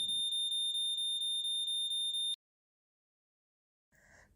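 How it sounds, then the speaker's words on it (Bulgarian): A shrill, piercing smoke alarm beeps in rapid continuous pulses for about two seconds, then cuts off to silence before a faint sound returns. "Противопожарната аларма се включва."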